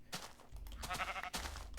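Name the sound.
sheep bleating in the video game Minecraft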